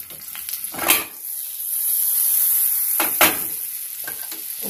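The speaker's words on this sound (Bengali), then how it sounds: "এবার আমি এটা একটু হালকা করে একটু ভেজে নেব বাটারে" Broccoli frying in butter and white oil in a pan, a steady close sizzle with two louder bursts of stirring and scraping near the start and middle.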